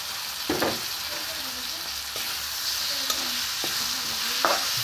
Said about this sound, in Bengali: এখন আমি খইয়া মাছ দিয়ে দিচ্ছি।